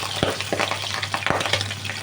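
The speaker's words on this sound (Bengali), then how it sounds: "তেলটা গরম হয়ে গেছে, এবার আমি মাছটা দিচ্ছি" Pabda fish frying in hot oil in a pan, a close, steady sizzle with a few sharp spatters and utensil taps.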